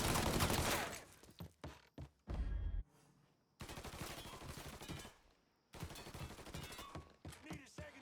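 Bursts of gunfire from the video game Mafia III: Definitive Edition, loud, close rapid volleys broken by short pauses, with a sustained stretch of automatic fire mixed with game sounds.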